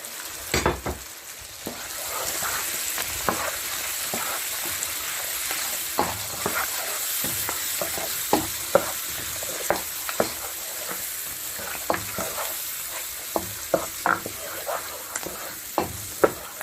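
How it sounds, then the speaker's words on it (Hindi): Yogurt frying in masala for aloo gosht, a steady loud sizzle with regular spoon scrapes and taps against the pot as it is stirred, no talking. "पाँच से 10 मिनट हम दही को इस तरह भून लेंगे।"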